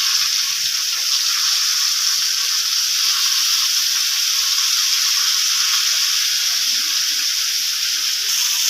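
Pieces of green mango frying in a pan beside prawns, a loud, even, close sizzle holding steady throughout with no talk.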